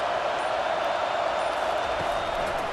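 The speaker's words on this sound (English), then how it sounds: "Big 3rd down as the crowd gets behind this defense." Crowd roaring and cheering in College Football 25 during a Texas A&M at Texas Longhorns game sim, on a big third down, a steady, dense stadium wash that holds loud and unbroken throughout.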